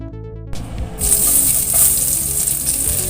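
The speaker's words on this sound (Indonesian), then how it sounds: "Masukkan bawang merahnya terlebih dahulu ya, digoreng karena ini tidak menggunakan banyak bawang merah." Sliced shallots hit hot oil in a pan for an eggplant balado dish, and a loud, steady sizzle bursts in after a brief quiet moment and continues crackling to the end.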